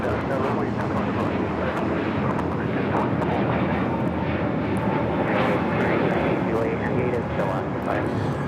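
A Spirit Airlines Airbus A321neo takes off from LAX, bound for Fort Lauderdale. Its jet engines give a loud, steady roar that fills the whole stretch.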